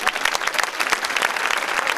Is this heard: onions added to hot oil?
no